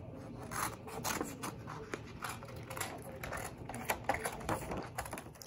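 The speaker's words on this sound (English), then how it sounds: "I hold it and then just cut around it." Scissors cut around a paper circle for a photo pendant, giving a steady run of close, soft rasping snips that continue through the whole stretch at low level, with no talk.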